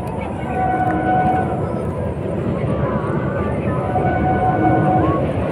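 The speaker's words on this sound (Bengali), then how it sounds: "হুগলি ব্রিজের উপর থেকে ট্রেন যাচ্ছে" A train crosses the Hooghly bridge over the Ganga, a steady broad rumble heard from nearby that holds at a constant loudness throughout, with a crowd murmuring and voices chattering underneath.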